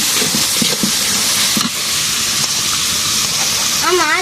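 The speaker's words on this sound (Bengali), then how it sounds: "তো মশলা টশলা কষায় নিছি সুন্দর করে, এবার মাছটা দিয়ে ভালো করে কষাবো" Fish sizzles as it is sautéed in a spice paste, a loud, steady frying hiss close at hand with a little stirring, and brief voices partly over it.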